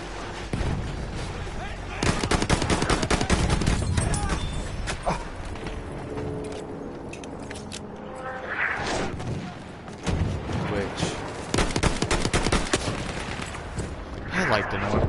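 Dense video game gunfire: rapid bursts of shots and heavy booms crackle close and loud for most of the stretch, with short pauses between volleys. A voice talks underneath.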